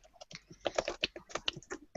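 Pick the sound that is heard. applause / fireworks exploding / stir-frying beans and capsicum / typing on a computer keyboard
typing on a computer keyboard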